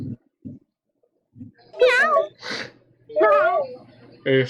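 A cat meows a few times nearby, drawn-out wavering cries separated by short pauses, with faint low sounds at the start.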